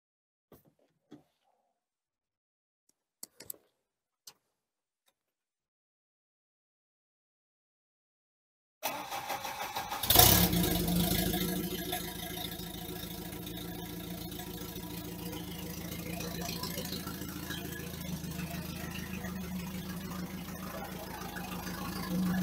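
A Volvo 240 engine idles steadily and fairly loud after a burst of startup noise, following a long stretch of near silence with a few faint clicks.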